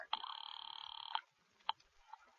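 An old telephone bell rings once in a long buzzing trill, then gives a couple of short faint clicks and chirps, quiet and alone.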